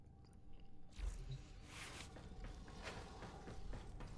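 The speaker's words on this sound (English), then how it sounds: "I do apologize if you hear me chewing my gum" Gum being chewed close to the microphone, with soft, wet smacks and squishes repeating in an irregular rhythm, quiet and alone.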